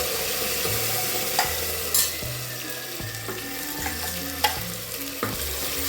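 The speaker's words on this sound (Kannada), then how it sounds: "ಮೂಲಂಗಿ ಫ್ರೈ ಆಗಬೇಕು." Ground masala paste and radish frying for a Karnataka-style radish sambar, a steady sizzle broken by several stirring clatters and scrapes of the spoon in the pan, close and fairly loud with no talk.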